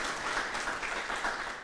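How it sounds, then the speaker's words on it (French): An audience at a youth holiday event in Plateau applauds a guest, a continuous, dense burst of many hands clapping at even loudness for the whole moment, no voices on top. "On peut l'applaudir très très fort pour sa brillante contribution."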